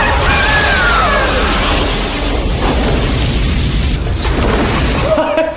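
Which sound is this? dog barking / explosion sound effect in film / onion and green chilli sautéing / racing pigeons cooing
explosion sound effect in film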